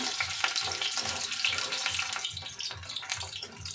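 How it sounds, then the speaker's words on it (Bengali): Boiled potatoes lightly frying in oil, with a dense crackling sizzle and soft, regular low bumps as they are turned, close and steady throughout. "এরপরে যে সেদ্ধ করা আলুগুলো ছিল সেগুলো আস্তে আস্তে সবকটা ভেজে নেব। খুব একটা ডিপ ফ্রাই করবো না, জাস্ট লাইট"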